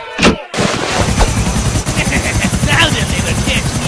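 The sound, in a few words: gunfire in Grand Theft Auto video game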